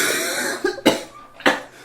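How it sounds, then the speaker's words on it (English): Two sharp coughs from a person recovering from a cough, close and loud, preceded by a brief throat-clearing sound, with no speech. "I'm still kind of recovering from a cough"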